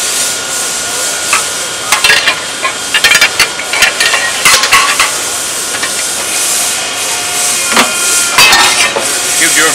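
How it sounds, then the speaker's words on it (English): Scotchman 50 ton three-station hydraulic ironworker with its angle shear cutting steel angle, a run of sharp metallic clanks and hissing bursts over a steady hydraulic hum, fairly close. "The angle shear on this machine will do"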